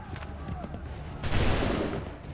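Musket volley in the Assassin's Creed 3 video game, a loud burst of overlapping gunfire crackling over game sounds partway through, after earlier scattered shots and movement.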